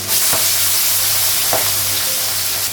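Onion with green and dried red chilies and whole cumin frying in a pan, a loud continuous close sizzle with a couple of brief stirring scrapes, no talk.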